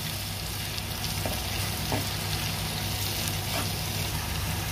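Chopped tomatoes fry in a hot pan for chicken sambal, giving a steady, close, loud sizzle with a few soft scrapes and knocks from stirring and no talking.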